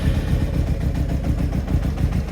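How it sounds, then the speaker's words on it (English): A Honda CBR600 F3 motorcycle engine runs rough and uneven with a carburetor problem, a steady close-up low rumble that does not fire cleanly on all cylinders. "It's not sounding like it's firing on all cylinders."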